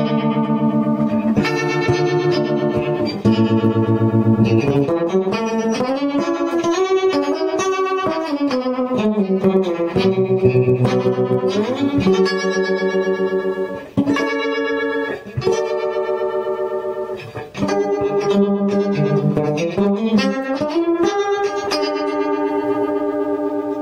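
An electric guitar played through a vactrol harmonic tremolo pedal in harmonic mode, set to maximum depth and speed, gives loud sustained chords and notes that swirl and pulse rapidly, with a chorus-like wobble throughout.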